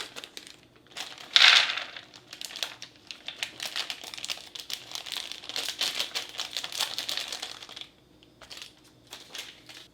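A plastic bag of mixed peanuts, almonds and cashews with no tear notch is pulled open, making crinkling, crackling plastic sounds in quick bursts, with one louder rip near the start and a quieter pause near the end.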